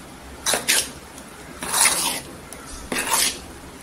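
Medu vada batter with cumin seeds being stirred by hand or spoon in a bowl, three short scraping, squelching bursts close by, with quiet pauses between them.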